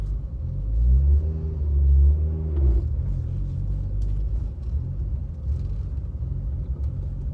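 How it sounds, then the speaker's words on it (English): A car fitted with a Quarter Master clutch rumbles low and steady, briefly swelling as it rolls slowly into a parking space, then settling into a quiet idle. "you can kind of hear me pulling into the parking space"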